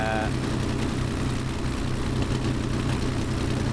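A Bf 109 G-6 engine in Microsoft Flight Simulator idles steadily at low RPM during warm-up, a loud continuous throbbing drone with a faint voice over it.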